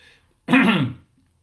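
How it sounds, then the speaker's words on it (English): A single harsh cough or throat clear bursts out close and loud, lasting about half a second, with quiet before and after. "I started coughing as well"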